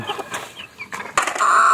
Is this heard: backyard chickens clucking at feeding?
yes